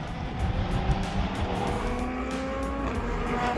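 Modern endurance race cars, Ferraris and a Dodge Viper among GT cars, race past at Brands Hatch, a loud sustained engine roar with rising and falling pitch and faint tyre noise.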